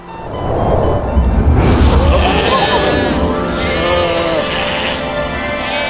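Sheep bleat through a loud, rumbling background of low noise in an outdoor night pasture scene with shepherds, several overlapping calls spread across the stretch.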